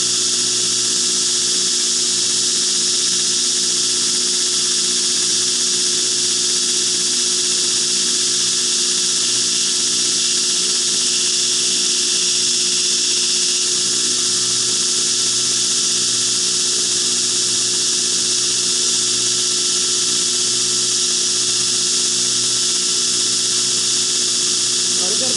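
A machine grinds a new bevel into a knife blade in a steady, continuous high-pitched whine that holds unchanged throughout at close range, while someone talks over it.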